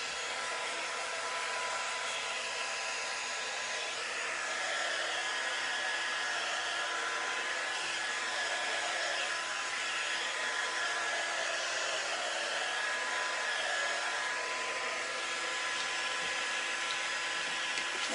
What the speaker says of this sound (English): I use this quick drying tool for everything